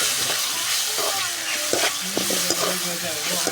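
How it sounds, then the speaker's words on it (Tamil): Tomatoes sauté in hot oil with onions for a village-style fish curry, a constant bright sizzle with soft spoon stirs and scrapes mixed in, close and steady. "தக்காளி பழம் அதையும் நாங்கள் சேர்த்து கொண்டு வதக்கி எடுப்போம்."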